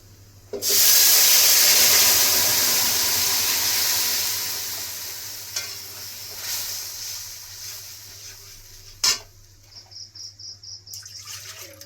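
Mashkalai dal poured into a hot pan for a Bengali recipe, a sudden loud hiss and sizzle that bursts in close and then gradually fades, followed by softer bubbling and a few clinks.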